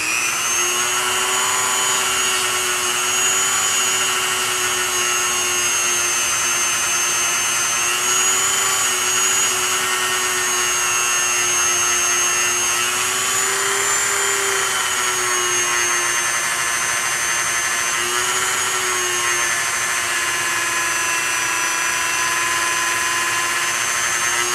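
A power tool polishing a Glock 20 SF barrel, a loud continuous high-pitched whine with a steady motor hum that wavers slightly in pitch, running alone throughout.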